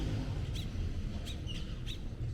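Small birds give a few brief, high chirps scattered at a distance outdoors in hot Oaxacan countryside, sitting faintly over a steady low rumble of wind or engine noise.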